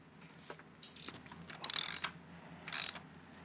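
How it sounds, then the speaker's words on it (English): A hand ratchet clicks in short bursts while loosening the T40 bolts that hold the kickstand of a Harley-Davidson Pan America motorcycle to the engine, the bursts quiet and close-up with pauses between them. "Now we just need to remove the 3 bolts that secure it to the engine, and they are T40s."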